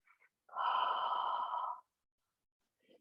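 One long, close, soft exhalation during a yoga pose, lasting just over a second in a quiet room, with faint breath noises before and after.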